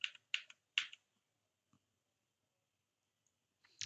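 Typing on a computer keyboard: a few quick bursts of close, crisp key clicks, then a long quiet gap before more tapping at the end.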